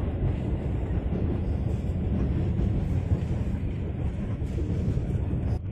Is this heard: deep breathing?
no